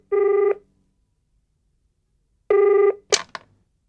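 A telephone rings in two short bursts, loud and close, separated by a long silence, followed by a couple of brief clicks as if the receiver is picked up.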